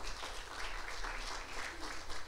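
A church congregation at the Hollywood tabernacle claps loudly and continuously, steady dense applause filling the room.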